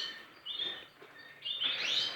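Young canaries give thin, high chirps in two short bursts, the second rising and busier, fairly faint against a quiet indoor background.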